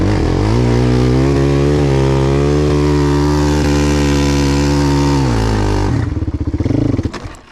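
A quad bike engine revs hard and close during a ride, a loud, steady droning roar with slight pitch swells that drops into a rougher, sputtering idle near the end.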